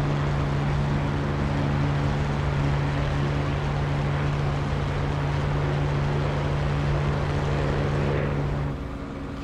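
A Spitfire Mk IX piston engine in the DCS World flight simulator drones loudly and steadily at high power, a thick continuous roar with a low hum that drops away abruptly just before the end.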